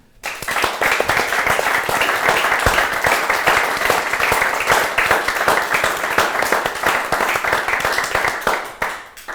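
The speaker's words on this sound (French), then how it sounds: "Donc, on vous applaudit." An audience applauds at a talk on psychoanalysis and music, a dense, steady wash of many hands clapping that holds at full strength for several seconds before tapering off at the end.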